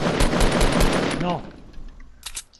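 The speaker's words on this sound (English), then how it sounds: "I think it's Troy shooting" Fortnite gunfire, a dense stretch of rapid automatic shots, loud and close, fading into sparser bursts, with a player's voice briefly heard among them.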